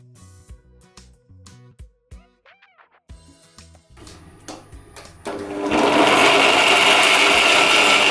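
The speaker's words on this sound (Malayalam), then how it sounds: "തേങ്ങാനെ ഒന്ന് പൊട്ടിച്ചിട്ട് ഒന്ന് അരച്ചെടുക്കാം." Some light clinks and knocks give way to a mixer grinder grinding coconut, which starts up in a loud, steady whir that fills the last few seconds.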